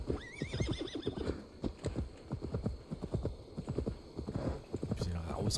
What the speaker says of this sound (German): aber wir holen uns trotzdem das Pferd